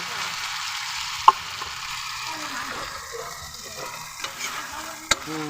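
A spatula stirs a home-cooked Filipino dish in a pan over a soft, steady sizzle, with a few sharp clinks against the metal and a faint voice somewhere in the background.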